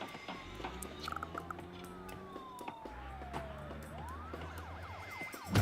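A police car siren from the SimCity video game wails in repeated rising and falling sweeps, moderately loud and steady over a low hum, with no talking.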